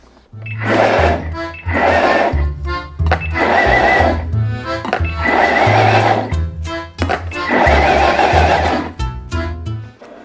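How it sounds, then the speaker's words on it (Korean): An electric blender pulses in short whirring bursts as it lightly chops onion for tomato sauce, roughly five loud, close grinding runs separated by brief pauses. "양파도 마찬가지로 죽되지 않게 살짝만 갈겠습니다"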